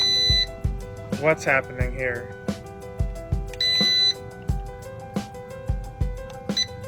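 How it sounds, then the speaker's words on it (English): A Wish.com Mavic Pro clone drone emits repeated sharp electronic beeps at a relentless rhythm, some longer tones among short chirps, with someone speaking briefly over them. "It's just beeping relentlessly."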